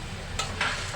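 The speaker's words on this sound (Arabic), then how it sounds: "نفضل نقلب فيها كده" Potatoes frying in a pan being stirred over medium heat, a steady sizzle with two brief scraping strokes of the utensil, close and alone.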